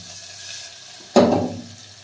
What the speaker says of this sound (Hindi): फिर डाल लेंगे हम अपनी चॉप करी हुई प्याज, फिर इसे हम कर देंगे सॉटे